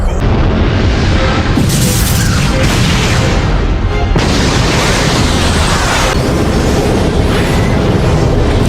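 Loud, dense anime battle explosions from One Piece attacks such as El Toro and Raigo, a continuous booming roar with rumbling bursts that swell and shift in waves.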